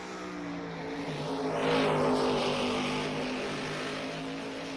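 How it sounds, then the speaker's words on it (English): A lightly colored Cobra race car runs on the Oulton Park circuit during an SRO race, its engine note rising as it approaches and falling away as it passes at a distance. "out on track in that lightly colored Cobra"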